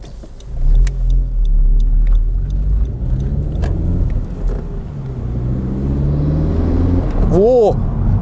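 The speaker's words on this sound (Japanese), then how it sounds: "さっきよりやっぱりシューっていう吸い込んでる音がめちゃめちゃ聞こえてきますね" Honda Civic FK7 with a custom air intake, driving with the windows open: a loud, close engine rumble with a hissing intake whoosh as it accelerates, and someone talking throughout.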